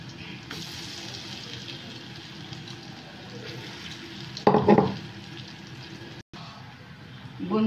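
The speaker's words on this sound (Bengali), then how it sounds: "আমি আমার একইভাবে এগুলো সব ভেজে নেব।" Papaya pakoras deep-frying in hot oil give a steady, close sizzle with a brief louder burst of bubbling midway, probably from stirring or turning the fritters.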